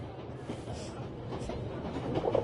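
A train running in the video game Memories Retold, heard as a steady low rumble and rattle of rolling wagons, moderately loud and continuous.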